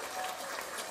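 A brief burst of audience applause during a new-artist meet-the-pros interview, dense and steady for about a second, with a faint murmur of crowd noise underneath.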